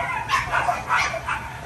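Several dogs at an ornamental dog breeding farm's kennels give repeated short barks and yips in quick bursts, moderately loud over a noisy background.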